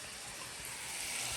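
Sausage and onions sizzle in a pan for black-eyed pea stew, a soft, even hiss of frying that holds steady and faintly brightens over the brief moment.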